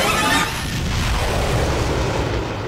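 Fireworks explode in Bioshock Infinite as a dense, loud rumbling burst that rolls on and fades over a few seconds, with low booms under a sizzling wash.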